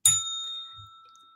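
A single bell strikes once with a bright ding, its clear tones ringing on and slowly fading, with no one talking.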